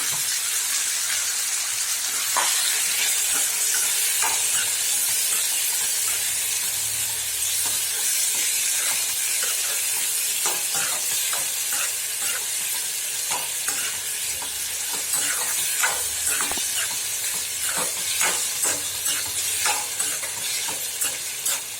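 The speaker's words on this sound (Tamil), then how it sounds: "இப்போ கரகரன்னு அடித்து வச்சிருக்கிற தக்காளியை வந்து சேர்த்துக்குவோம்" Ground tomato hits hot oil in a pan while bitter gourd kuzhambu cooks, giving a steady bright sizzle and hiss. Irregular stirring scrapes and pops break through it, with no talking.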